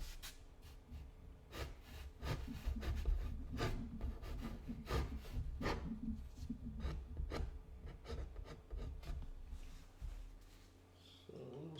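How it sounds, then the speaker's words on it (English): A tool scraping into wet watercolor paint on paper for a small landscape, soft repeated rasping strokes up close, fairly faint, ending with a brief quiet stretch. "let's see if we can scrape a little into this"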